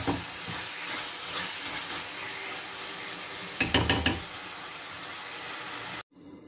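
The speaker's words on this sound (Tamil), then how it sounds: "இறா சேர்த்து ஒரு நிமிஷம் போல் வதக்குங்க." Prawns sauté in a pan for a prawn curry, a steady bright sizzle with a burst of scraping stirring strokes midway, cutting off abruptly at the end.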